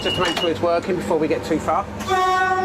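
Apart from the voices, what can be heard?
train horn test on East Coast train leaving King's Cross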